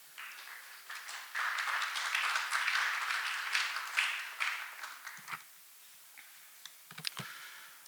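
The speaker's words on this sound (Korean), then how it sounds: "배준수 연구원님을 큰 박수로 환영해 주시기 바랍니다." A seminar audience at an international martial arts academic conference claps to welcome a presenter, and the brisk applause swells, holds for a few seconds, then thins to a few scattered claps and quiet.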